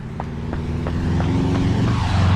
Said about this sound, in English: big loud car